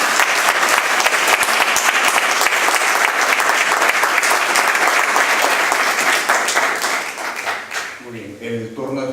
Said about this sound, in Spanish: simplemente pido para ustedes un aplauso por esta ocasión